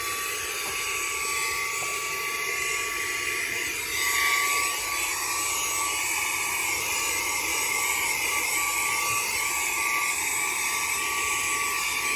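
A SAKER 3-in-1 vacuum cleaner runs across carpet with a steady, loud motor whine and airy suction hiss that holds for the whole stretch, swelling slightly partway through.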